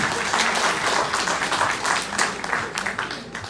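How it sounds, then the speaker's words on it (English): A crowd at a college freshers induction programme applauding steadily for several seconds, dense clapping that stays fairly even before easing off slightly at the end. "A big round of applause."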